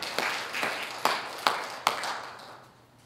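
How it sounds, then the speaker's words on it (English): A church congregation gives a final clap of praise on Easter, about five sharp, evenly spaced claps a few tenths of a second apart, moderately near in a reverberant room, then fading to quiet. "give God one more clap of praise."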